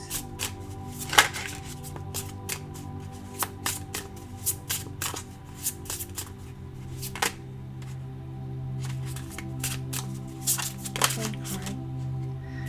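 A tarot card deck is shuffled by hand up close, with repeated crisp riffles and slaps of the cards in an uneven rhythm over a low background hum.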